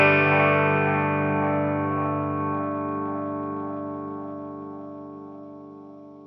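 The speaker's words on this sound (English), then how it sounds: "you can hear that the echoes, progressively, they get more filtered and more distorted as they tail away" Delay pedal echoes pushed to the edge of oscillation ring out as a sustained, distorted, chorus-like tone that grows duller and more filtered while it slowly fades over six seconds.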